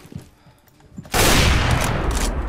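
Gunfire in the video game CS:GO starts after about a second as a loud, dense burst that continues without break, following a few quieter clicks and thumps.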